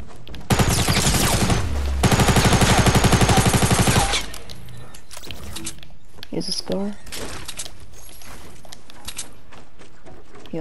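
Rapid automatic gunfire in Fortnite Battle Royale, a loud, dense burst of shots for several seconds, followed by scattered single shots and game clatter while a player talks.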